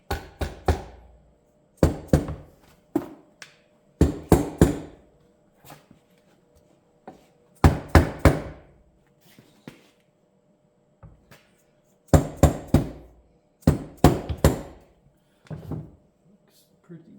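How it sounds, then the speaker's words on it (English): Repeated dull taps from a rubber mallet on a Serval Cub Banshee build, struck in short clusters of two or three with quiet pauses between, close and fairly loud. "we got an even better rubber hammer. Where's this one? I'm just gonna tap it gently."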